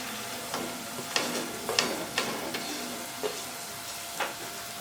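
Radish pods stirred into onions frying in oil: a soft sizzle underneath a series of distinct scraping strokes of a spoon against the pan, spaced irregularly, fairly quiet and close.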